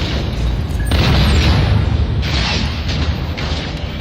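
Space fleet weapons fire with heavy explosions, a continuous loud rumbling barrage of booms and blasts with swelling bursts throughout, no talk.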